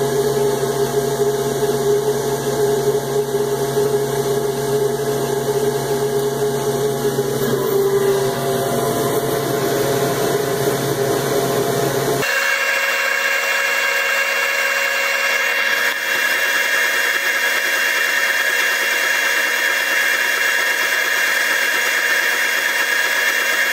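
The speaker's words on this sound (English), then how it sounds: "But the blower, it's kind of loud, but it works great. Blower's on." A loud blower fan runs steadily on a Chinese laser engraver, its broadband whir constant throughout, with the tone shifting partway as another motor or fan changes pitch.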